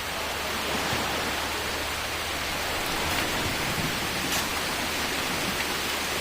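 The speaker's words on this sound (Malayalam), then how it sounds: "മോനെ, മഴ കൂടി" Heavy rain pours down steadily and loudly during a fishing outing in the Maldives, a dense continuous hiss with no voices.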